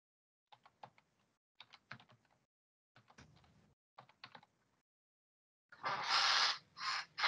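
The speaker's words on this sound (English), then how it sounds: "Y'all can see how lousy I type" Typing on a computer keyboard in short bursts of quick clicking keystrokes with pauses between them, close and fairly quiet, ending in a louder, denser patch of rustling clatter.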